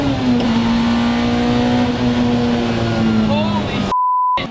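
A 2024 Acura Integra Type S engine holds a steady, mid-pitched droning note that sags slightly in pitch, heard from inside the car, before a short electronic bleep tone cuts in at the end.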